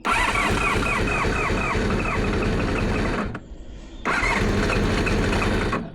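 A Honda VFR400 NC30 motorcycle from a barn-find restoration runs close and loud, its engine holding a busy buzzing rev that dips briefly for about a second before picking back up to a steady, fast idle.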